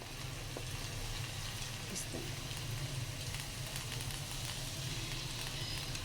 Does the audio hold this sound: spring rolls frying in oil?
yes